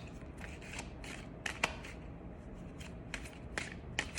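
Tarot cards are shuffled close up in quick, papery riffles and flicks, with a few sharper snaps, and no one speaks.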